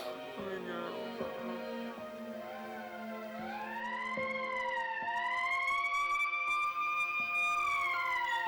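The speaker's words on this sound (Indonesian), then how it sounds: "itu kayaknya ambulan yang bawa jenazahnya Haja Maimunah" An ambulance siren wails with rising and falling harmonic sweeps, growing louder and nearer as it goes on, with no talking over it.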